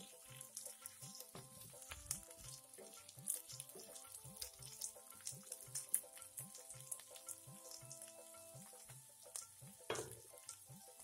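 Small potatoes frying with onions in a pan for an Assamese potato curry with sesame seeds, giving a faint, steady sizzle broken by repeated stirring scrapes over a low kitchen background.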